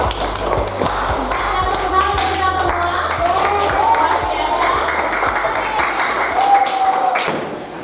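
Classroom applause from a group of students, a burst of many quick light claps that holds steadily for several seconds then fades, with a teacher's voice briefly over it.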